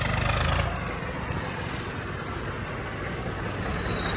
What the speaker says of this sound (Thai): ยามเย็นกับฟอร์ด สามสูบ นะ หวานเจี๊ยบนะครับผม